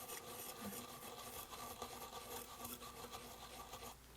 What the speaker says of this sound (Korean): 살살살살 힘을 빼고 부드럽게 닦아주는 거예요. 작은 원을 그리듯이.